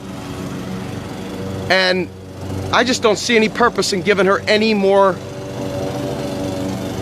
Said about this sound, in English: And I'm sorry about the lawnmower here,